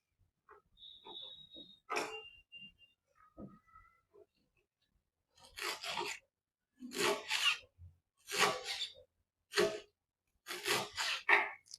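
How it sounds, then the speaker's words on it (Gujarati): A knife finely chops green garlic for pickle on a board, giving a few sparse scrapes and then a regular run of close, rasping chopping bursts about every second. "આ જ રીતે આપણે બધું જ લસણ કાપી લઈશું."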